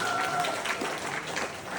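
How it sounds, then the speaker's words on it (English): Audience at a New Year celebration event giving a quick round of applause, a dense continuous patter of clapping from a crowd with faint voices mixed in. "Quick round of applause for her"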